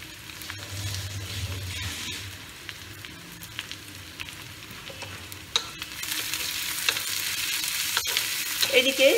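Onions frying and sizzling in a pan for a Bengali boal (wallago catfish) kalia curry, a steady crackling hiss with stirring scrapes, louder toward the end.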